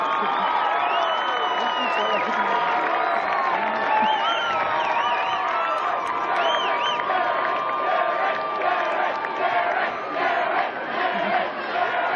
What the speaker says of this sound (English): Ladies and gentlemen, another round of applause for your 2013 graduating seniors.